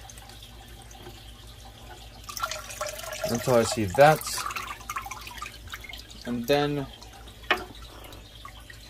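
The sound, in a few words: water poured into Aquaclear aquarium filter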